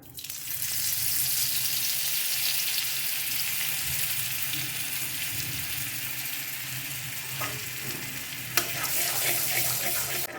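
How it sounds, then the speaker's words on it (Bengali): A knob of butter melts into hot paneer-frying oil and sets off a loud, continuous close sizzle that holds steady for about ten seconds, with a brief clatter near the end. "এবারে এই পনির ভাজা তেলের ওপরে দেব একটু বাটার"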